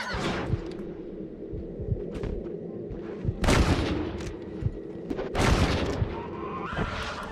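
Red Dead Redemption gunshots aimed at a bear: sharp, loud reports crack out at irregular intervals over a dense, noisy game soundtrack, with two especially strong blasts standing out.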